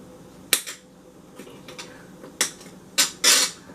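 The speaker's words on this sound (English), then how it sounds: "I'm doing this on my glass cutting board." A knife dicing bell pepper on a glass cutting board, giving sharp, hard clacks at irregular intervals, several single hits and a quick double strike near the end, close and clear over quiet background.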